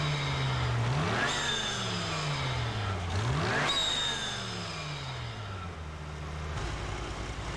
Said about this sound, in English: again rev the engine 3 times to complete the